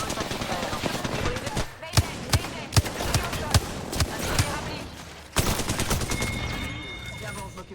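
Gunfire in the Apex Legends video game, a steady run of loud, close, evenly spaced shots over dense battle noise, then a heavy blast and a continuing rumble.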